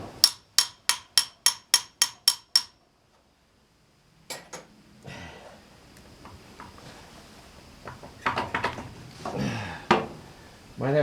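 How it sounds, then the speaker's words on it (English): Sharp hammer blows on a metal bracket at a sawmill, eight quick evenly spaced ringing strikes, then a pause and scattered clanks, knocks and handling noise with some louder bangs near the end. "Get the hammer out."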